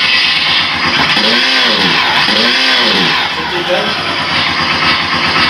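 A Bluetooth sound-effect module on a Super Soco TC Max electric motorcycle plays a simulated engine that revs up and back down twice over a steady loud hum, with a voice speaking briefly.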